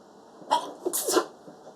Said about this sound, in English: No, I'm sneezing.